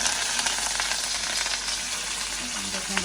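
Cumin, chopped onion, green chilli and curry leaves fry in hot oil with mustard seeds, making a continuous close sizzle and crackle with faint stirring beneath it.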